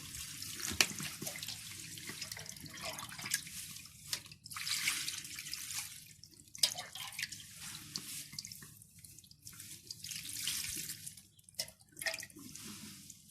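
Water poured over freshly picked mint leaves to wash them, a soft steady splashing and trickling that swells and fades in waves, close but fairly quiet, with no voices.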